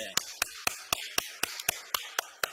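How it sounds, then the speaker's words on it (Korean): A church congregation claps at a Sunday service, nine sharp distinct claps in a slow steady rhythm, close and fairly loud, with faint talk between them. "우리 박수 한번 칩시다"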